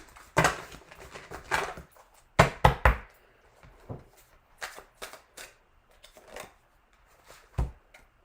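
A deck of tarot cards being shuffled, with bursts of riffling and flicking spread over several seconds, interspersed with softer taps and quiet gaps, close and moderately loud.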